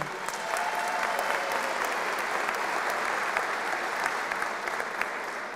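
A crowd claps steadily at the Green Line light-rail grand opening ceremony, a dense, sustained wash of applause from many hands lasting several seconds with no voices over it.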